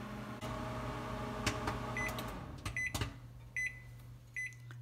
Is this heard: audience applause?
no